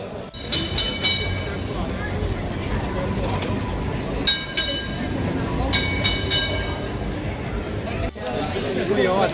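A tram rumbles along street rails with metallic clinks and squeals, while busy crowd chatter carries on throughout.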